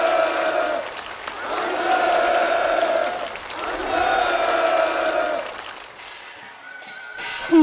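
Participants applauding at a ceremony handing over new farm housing, bursts of crowd clapping mixed with music and a voice, surging and dipping in waves before cutting off.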